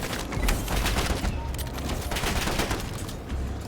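LMG machine gun fire from the video game Black Ops 7 rattles on in dense, continuous bursts layered with other battle noise, loud and close throughout with no pauses.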